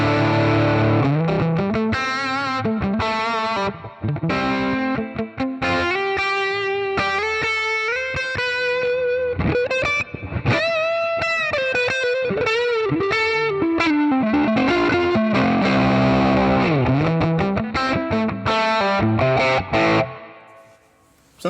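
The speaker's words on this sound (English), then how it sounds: "So now this is a twin reverb. So distorted twin reverb," An electric guitar run through a Joyo Preamp House on its distorted twin reverb preset plays a continuous, thick overdriven melodic passage with sustained notes and chords, ringing out alone before cutting off at the end.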